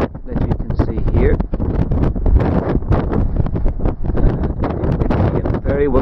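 Wind gusts over a mountaintop above Bantry Bay in County Cork, buffeting the microphone in a steady rough rumble while a person talks throughout.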